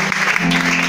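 A church congregation applauding during a worship service, a steady wash of clapping with a brief voiced tone underneath, fairly loud and close.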